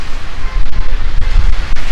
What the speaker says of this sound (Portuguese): Agora tá ventando forte, hein?